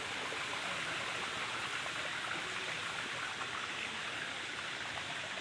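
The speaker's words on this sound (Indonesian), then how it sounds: "Ini pengeluaran dari sumur masuk ke kebun." Overflowing well water pouring out into a garden like a small river, a steady, full rushing flow heard close and unbroken throughout, with no voices.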